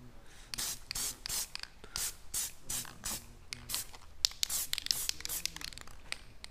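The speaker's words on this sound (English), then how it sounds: "so black spray only for the water pump" Black spray paint hissing from an aerosol can onto a BMW E32 water pump, in a series of short, close bursts with brief pauses between them.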